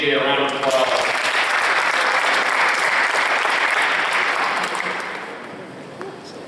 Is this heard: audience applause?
yes